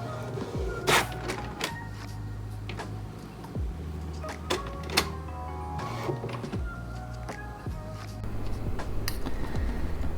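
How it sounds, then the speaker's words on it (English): A home printer runs a drawing design through, a steady mechanical whir with intermittent clicks and feed clunks, close and continuous for about ten seconds. "the design that I just printed out of my printer"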